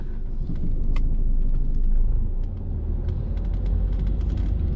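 A car pulling away and accelerating through the gears during a driving lesson, a close, steady engine rumble inside the cabin with slight dips as it shifts, and light clicks above it.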